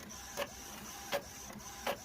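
An Epson EcoTank inkjet printer prints on plain paper, its print head sliding back and forth with a steady mechanical hum, marked by three regular clunks as the carriage reverses direction, heard close and alone.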